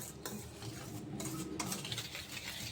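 A spoon stirs a milk and sugar mixture in a bowl for a no-cook sweet, making soft, close, continuous scraping and clinking strokes at a quiet level, with no voices.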